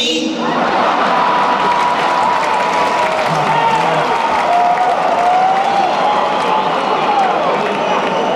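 Large arena crowd at a 1990 Andrew Dice Clay stand-up comedy show at Nassau Coliseum, Uniondale, applauding and cheering in a loud, sustained roar with whistles and shouts, no pause throughout.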